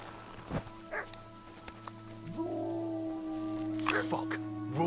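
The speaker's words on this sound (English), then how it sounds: "I hear dogs." Dogs bark a few times in a medieval video game world, short yelps at a moderate distance under steady ambient game sound and a held tone, with a voice speaking briefly.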